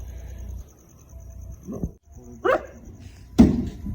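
A dog barks a few times, sharp and separated, against a quiet night background with faint insect chirping, in a village in Pakistan.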